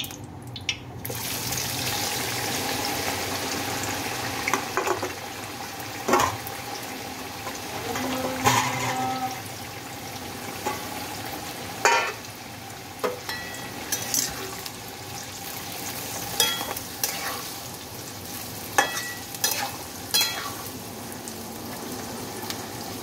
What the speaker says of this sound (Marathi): हे तेल व्यवस्थित गरम झालेलं आहे। तर आपण आता त्याच्यामध्ये कांदा टाकूया।